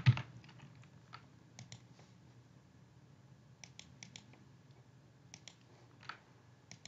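Quiet, scattered clicks of typing on a computer keyboard, in short irregular bursts of a few keystrokes after one louder knock at the start, heard close in a still room with no speech.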